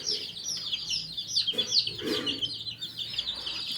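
Chickens cluck and chirp close by in a steady, busy chatter, with a few louder squawks rising above the soft background noise.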